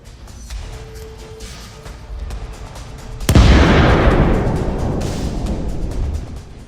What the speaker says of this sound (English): A massive explosion erupts.